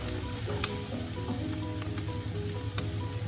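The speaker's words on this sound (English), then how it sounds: "Here that's got a good little sizzle on." Mushrooms sizzle in a pan with onion and garlic, a steady close frying hiss with occasional sharper pops and crackles.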